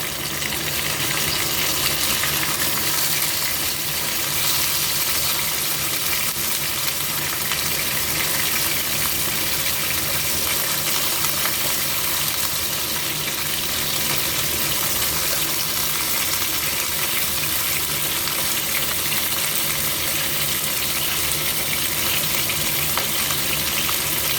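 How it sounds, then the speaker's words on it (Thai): Chicken frying in hot oil in a pan for a Thai chicken curry, a loud, steady, dense sizzle and crackle that runs unbroken without any talk. "ทอดให้เหลืองเลยจ้า"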